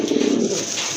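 Quality pigeons for sale, including a male that calls often, coo in a brief, close, fairly loud burst over a faint airy background.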